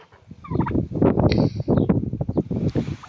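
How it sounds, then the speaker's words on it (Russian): A group of domestic turkeys, black and bourbon birds among them, gobble in a loud, close burst of rapid rattling calls, with wind buffeting the microphone. "Вот мои индюки. Мои красавцы."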